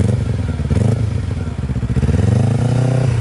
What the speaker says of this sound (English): Listen to this. Sounds like a factory race bike.